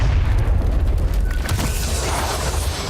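A dropped bomb exploding in a video game, heard as a dense, sustained roar of deep rumbling and crackling debris, loud and close throughout with no clear speech.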